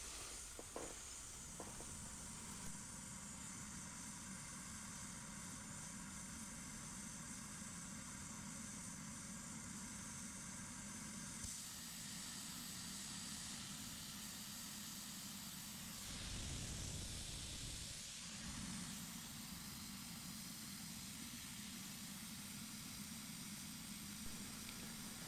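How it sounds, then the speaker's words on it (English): Safety valves on a 7¼-inch gauge Hunslet steam locomotive hiss steadily as they relieve boiler pressure during a steam test, a soft continuous rush that swells briefly into a stronger burst midway. "Now at this point the safety valves are really working as intended, So they are relieving enough pressure"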